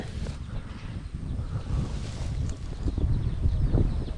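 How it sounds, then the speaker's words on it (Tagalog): Steady low rumbling wind buffets the microphone throughout, with gusty broadband noise that swells louder toward the end. "lakas po ng hangin"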